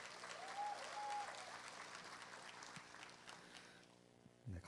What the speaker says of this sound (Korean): 계속해서 큰 박수 부탁드립니다